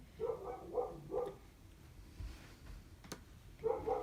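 A dog barks in three quick, fairly faint yips, then goes quiet for a moment before another bark or two, heard indoors at a moderate distance without talking.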